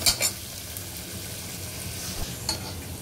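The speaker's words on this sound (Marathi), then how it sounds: "1 ते 2 मिनिटं हा कांदा आपल्याला परतून घ्यायचा आहे" Onion sautés in a pan, giving a steady soft sizzle as it is stirred, with a couple of sharp utensil clinks against the pan at the start and another near the end.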